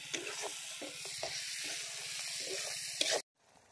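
Pieces of bain fish braise in a pan with a quiet, even sizzle and occasional soft ticks of stirring, before the sound cuts off abruptly.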